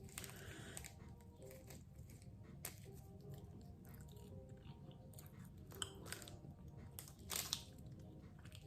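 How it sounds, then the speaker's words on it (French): Someone chews a small piece of Japanese soda-flavoured chewy candy up close. Quiet, soft, sticky mastication runs throughout with occasional sharper clicks and faint crinkles, and nobody talks. "Mâcher un peu pour que, avec la salive, tout se diffuse."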